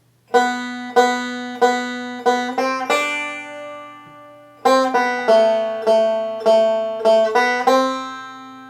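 A banjo plucks a bright melodic phrase of Joy to the World, notes ringing out in quick groups, a brief pause with a lingering tone, then the phrase continues. No voices.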